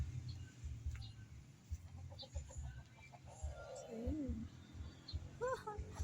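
Chickens cluck in the background amid steady outdoor noise on a farm in Pangasinan, Philippines, with a few brief calls and a drawn-out squawk rising over the low rumble.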